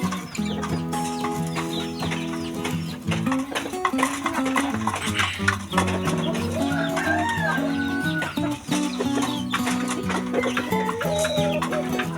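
Small Shamo chickens clucking and crowing up close, with steady layered calls and a constant bird chorus filling the whole stretch, no talk.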